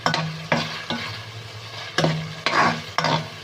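Chicken sizzling and frying in a pan for chow mein, with a spoon stirring it in short scrapes roughly every half second over a steady close hiss.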